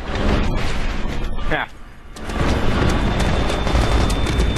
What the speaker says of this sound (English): Oh my god, I just blew up a tank with a sticky grenade.